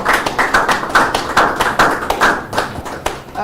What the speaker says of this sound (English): can we give a round of applause for the time?